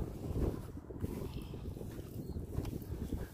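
Wind blowing on a breezy day at a horse stable, a loud, continuous gusting rush buffeting close against the microphone with no break.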